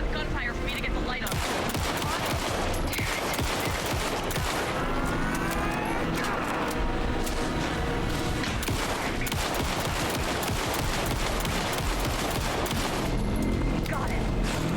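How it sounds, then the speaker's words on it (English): Rapid, continuous bursts of gunfire in the video game Alan Wake 2 crackle throughout, dense volleys overlapping with game-style effects and no pause. "pin him down with gunfire for me to get the light on."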